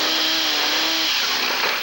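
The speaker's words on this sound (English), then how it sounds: "The chainsaws were buzzing on the main line and elsewhere" Chainsaws buzzing while cutting fallen trees after a hurricane, a loud continuous high whine that holds steady then roughens as the saw bites, close and alone without voices.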